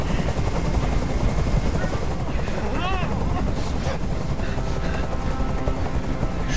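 A helicopter hovers close by in the video game Detroit: Become Human, its rotor drone loud and steady throughout, with faint French voices in the mix.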